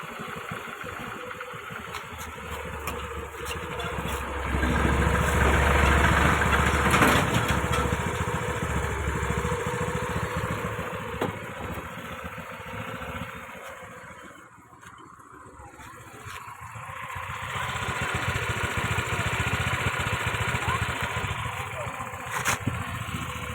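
Honda Activa 125 scooter engine idling steadily at close range, a smooth continuous hum that swells in loudness, dips briefly, then rises again, with faint talk in the background.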